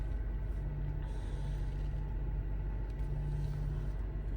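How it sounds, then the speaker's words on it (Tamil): A car being parked in Saudi Arabia gives a steady, close engine rumble with a low idle drone throughout and no speech. "ஸோ வண்டி பார்க்கிங் மட்டும் பண்ணிக்கலாம்"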